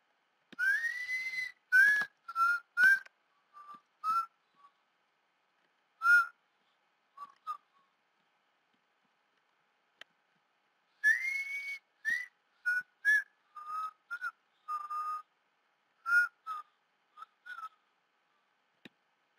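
A person whistles a tune in clear, bright phrases with short pauses between them, alone against near silence.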